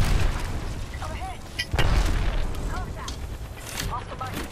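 Grenades going off in a team shooter game, a run of heavy booms and bursts rumbling through a busy battle mix with voices talking over the top.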